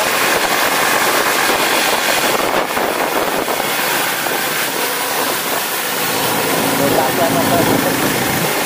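A motorcycle engine drones steadily and loudly throughout the ride toward Bandarban, mixed with strong wind rush, with no break in the sound.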